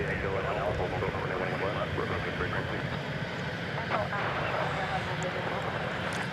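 An Avianca airliner comes in to land at DFW Airport, its engines a steady, distant roar blended into broad outdoor noise, with people talking over it throughout.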